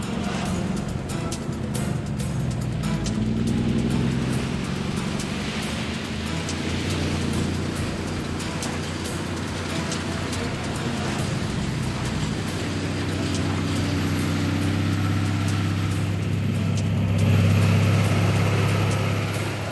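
A car pushes through a flooded river crossing during the wet season, its engine droning steadily under a constant wash and splash of water, growing louder and heavier toward the end.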